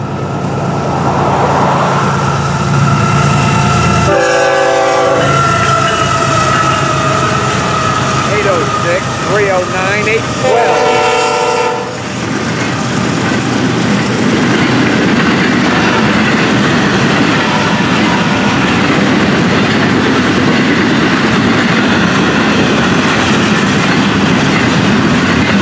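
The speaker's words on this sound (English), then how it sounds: "FEC210 on its way right now." FEC210 freight train approaches and passes on the Florida East Coast line, sounding two loud horn blasts before a steady rumbling clatter of freight cars rolling close by; someone talks during the passage.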